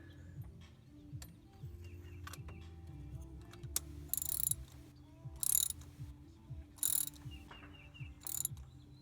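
A ratchet wrench tightening a spark plug on a 2001-2005 Honda Civic, rapid clicking pawl strokes repeating in a steady back-and-forth rhythm, close and fairly quiet, with a few sharper metallic bursts between strokes.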